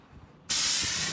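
Airless paint sprayer firing through a blown-out tip, starting abruptly as a loud, harsh, broadband spray hiss that holds steady.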